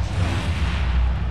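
A grenade explosion in the action game Uncharted 4, a single loud, deep boom with a rumbling low tail lasting over a second.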